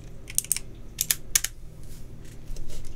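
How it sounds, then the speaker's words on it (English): Computer keyboard typing comes through as a quick run of crisp, close clicks and clacks in bursts, followed by a few softer taps and some low rumble, with no one talking. "Do you guys miss my clickety clackety?"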